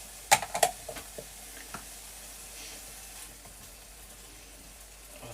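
Pork frying in a pan for a Vietnamese stir fry, with a few sharp crackles and knocks at the start before settling into a soft, steady sizzle close by.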